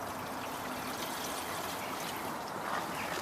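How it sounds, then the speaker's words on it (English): Water poured into the drain of a Citroen C3 Picasso, trickling and flowing steadily out of the drain with a continuous close, even splashing hiss and no voices. "that's pouring out lovely, that is"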